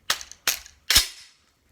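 The dry, extended charging handle of a Windham Weaponry 6.5 Creedmoor precision rifle is worked with three sharp metallic clacks close up, the last one heavier and ringing slightly longer.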